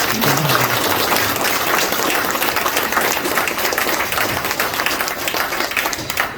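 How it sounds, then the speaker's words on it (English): An audience at an evening talk on buying and rehabbing apartment buildings gives a loud, dense round of applause that holds steady throughout, with faint crowd murmur beneath. "Give Ku a round of applause if you guys learned something"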